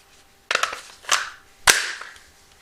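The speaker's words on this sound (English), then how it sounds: "The magazine just fits in this hole here" An AR-15 rifle magazine seated into the magazine well: three sharp metallic clacks and knocks spaced about half a second apart, close and distinct in a quiet room.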